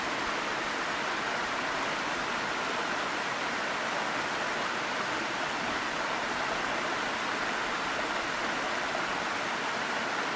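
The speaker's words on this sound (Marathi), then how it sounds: "वजराई धबधबा हा धबधबा पश्चिम महाराष्ट्रातील सातारा जिल्ह्यात आहे" Vajrai waterfall in Satara district, western Maharashtra, roars as a steady, dense rush of falling water, a continuous broadband wash with no pauses and no voices.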